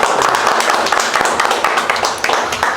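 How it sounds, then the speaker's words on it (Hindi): A crowd of people in a Bihar panchayat community hall claps together for a couple of seconds, a dense steady patter of hands at moderate loudness. "तो सबसे पहले इस कार्य के लिए सब आदमी ताली मार दीजिए"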